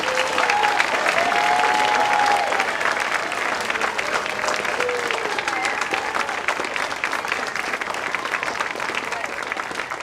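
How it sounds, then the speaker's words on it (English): Sustained, dense applause from an audience at a school band concert in a junior high, loud and steady for the whole stretch, with faint voices mixed in. "let's give them a huge round of applause"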